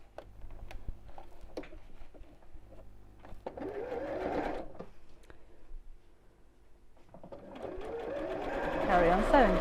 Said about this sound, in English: I'm going to start sewing at the seam